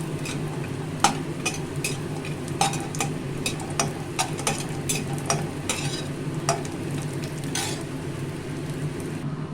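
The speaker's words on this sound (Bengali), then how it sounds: "তেল গরম হয়ে গেলে আমি কটা বড়ি ভেজে তুলে নেবো" Lentil dumplings (bori) frying in hot mustard oil in a wok: a steady close sizzle with repeated sharp clinks and scrapes of a utensil stirring against the pan, no talking.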